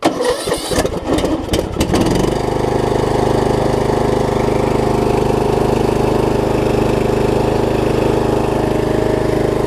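A riding lawn mower engine with the choke on cranks for about two seconds, catches, then settles into a loud, steady close-up idle that runs to the end.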